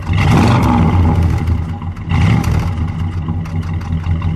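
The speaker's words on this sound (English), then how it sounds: "Go ahead, let's give it a little rev." A 318 V8 engine in a 1968 Plymouth Fury III convertible with dual exhaust revs twice, roaring up loudly and settling back toward a rumbling idle between blips.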